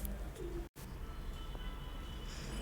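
Pigeons coo near an office with a water bowl set out for them, soft bird calls over a low steady background hum, with one brief dropout.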